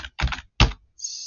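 A few quick bursts of typing on a computer keyboard, close and clear, with short silent gaps between them and a brief tonal sound at the end.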